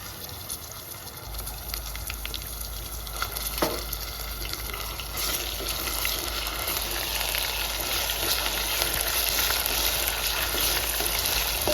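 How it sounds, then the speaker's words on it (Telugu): Onion with ginger-garlic paste frying in a pan for a crab curry, a dense continuous sizzle that builds louder partway through, with occasional stirring scrapes and no talk. "అల్లము తెల్లవై మంచిగా పచ్చివాసన పోయేంత వరకు ఫ్రై చేసుకుందాం."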